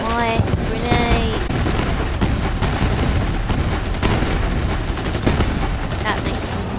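A grenade blast and sustained gunfire in Borderlands 3, loud and continuous, a dense layered barrage of rapid shots and booms with in-game effects and voices mixed through.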